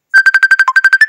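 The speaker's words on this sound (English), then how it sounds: "Somebody's calling while I'm busy trying to do a video." A phone ringtone for an incoming call rings loud and close: a quick run of about a dozen bright electronic beeps in a steady rhythm, one beep dipping lower in pitch, with no voices.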